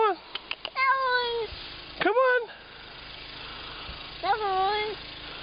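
A cat gives several loud, drawn-out meows in separate bursts, close up, over a quiet low engine hum in the background.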